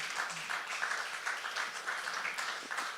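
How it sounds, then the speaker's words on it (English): An audience at a sports press congress gives a round of applause: steady, dense clapping at moderate loudness that holds evenly throughout with no talking over it. "definitely deserves a round of applause"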